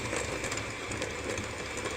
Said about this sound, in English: I'm going to mix it around for probably about a minute until it's nicely creamed together